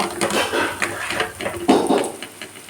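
Spoon stirring chicken with turmeric, Kashmiri chili and sugar in a pan, a series of irregular scraping and knocking strokes, close and fairly loud.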